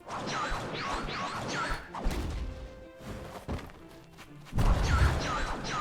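The old version of a Rell Seas ability sound effect: layered sweeping whooshes, crashing impacts and thuds repeat in bursts, loud and close, with no voices.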